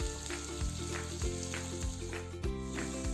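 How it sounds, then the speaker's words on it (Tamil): Vegetables for potato cutlets sizzle and fry in oil in a home kitchen pan, a steady close crackle with soft rhythmic stirring scrapes about every half second, no voices. "ஒரு வானலில் எண்ணெய் வச்சுட்டு காயெல்லாம் போட்டு நம்ம வதக்கணும்."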